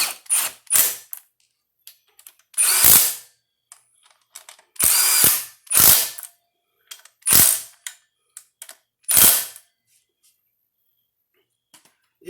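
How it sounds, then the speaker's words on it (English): Cordless impact wrench run in several short bursts as it drives the starter bolts on an F23 Honda Accord engine rebuild, each loud whirring rattle about half a second to a second long, separated by pauses with small clicks and handling noises. "I'm going to come back with my impact and run those all the way down"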